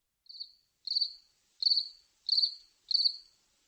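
Cricket chirping played as a sound effect, five evenly spaced high-pitched chirp bursts repeating at a steady rhythm, clear and isolated with no talking.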